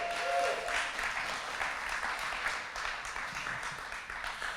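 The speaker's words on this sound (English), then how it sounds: "Give him another round of applause." Faint audience applause for Scott Horton at a live comedy show, a soft, even patter of many hands heard from a distance and continuing steadily throughout.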